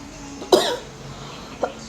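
A single sharp cough bursts out from someone who has a cough, followed by a fainter, shorter cough a second later, both close and clear against quiet room tone.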